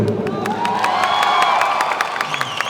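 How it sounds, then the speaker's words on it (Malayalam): An audience at an Asif Ali Sarkkeett event applauds and cheers. The clapping is dense and continuous, with rising whoops and shouts layered over it, and it stays loud throughout. "ഒരു പ്രാവശ്യം കൂടെ ആ കയ്യടി തരുമോ?"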